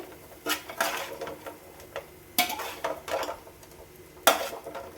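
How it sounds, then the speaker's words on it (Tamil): Crunchy, crispy fried pieces for mutton boti rice being stirred in a pan, with bursts of scraping and rattling every second or two over a faint sizzle. "நல்லா மொறு மொறுப்பு இருக்குது. அந்த சத்தம் சூப்பராக வருது பாருங்கள் கிளறும் போது"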